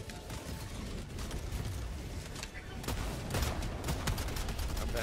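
Steady gunfire crackles through a Helldivers 2 firefight, with rapid shots and bursts layered over constant battlefield noise at moderate level, with no clear talk.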